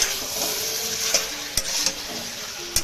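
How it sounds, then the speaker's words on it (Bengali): Chicken pieces and potato chunks frying with a little salt in a pan for a simple Bengali chicken curry, a steady broadband sizzle with a few sharp utensil scrapes and clicks scattered through. "আমি আলুগুলো দিয়ে অ্যান্ড হচ্ছে একটু নুন দিয়ে ভালো করে কষাবো"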